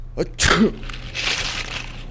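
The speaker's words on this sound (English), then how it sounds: "I huffed, and I snuffed, and I sneezed a great sneeze." A loud, close sneeze explodes out after a quick sniffing intake, followed by a hissy breathy tail over a faint low hum.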